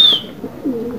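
Pigeons on a rooftop, a soft low cooing sound close by, with a brief high chirp at the start.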